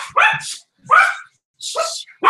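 Several dogs bark in short, sharp bursts, three clusters of yapping close by with brief silences between.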